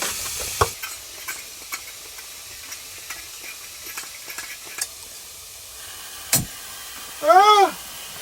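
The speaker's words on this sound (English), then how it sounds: "Just gonna stir this with the Cold Steel Ultimate Hunter. My favorite knife to stir broccoli with any day." Broccoli sizzling faintly in a pan on a wood stove in a canvas hot tent, stirred with a large hunting knife that makes scattered light scrapes and taps, ending with a short vocal exclamation.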